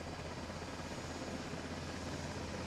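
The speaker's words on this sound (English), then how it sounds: "Once the helicopter is safely off the ground, then we'll tag up with our teammates" A helicopter in a military squad video game gives a faint, steady rotor and engine drone that runs unbroken throughout, with no voices over it.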